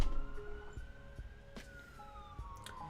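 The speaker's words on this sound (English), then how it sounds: "if the siren's on, things aren't okay" An emergency vehicle siren wails outside a window, faint and distant, its steady tones slowly gliding in pitch over low background hum, with no one speaking.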